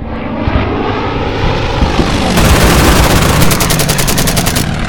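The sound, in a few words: aircraft gunfire in the video game Order of Battle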